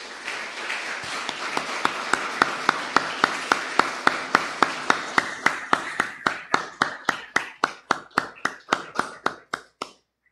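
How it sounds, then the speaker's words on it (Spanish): A church congregation applauds together in a long burst of sharp, rhythmic claps, close and loud, steadying into a regular beat that slows and thins before stopping abruptly. "Denle un aplauso al Señor"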